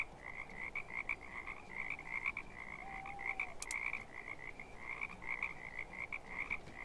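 Frogs croak in a steady, rhythmic chorus at a mid distance in the video game Depraved, set in a wintry frontier town, with repeated evenly spaced calls over a low ambient background and no voices.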